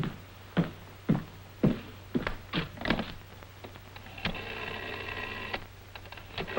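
A telephone being dialed, a series of separate clicks and clunks from the dial, then a long whirring tone of the mechanism, quiet and close with no talk.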